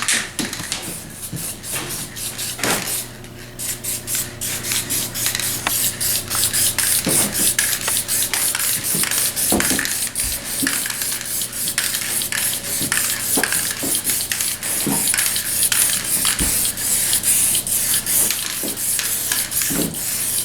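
Spray gun laying a medium second coat of automotive paint onto a car panel, a loud steady airy hiss running almost the whole time with brief breaks between long overlapping passes, close up with no talking.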